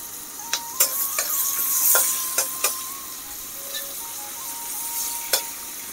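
Whole cumin seeds and chopped onion frying in hot oil in a village kitchen, a steady close sizzle with scattered sharp crackles and pops, no talking.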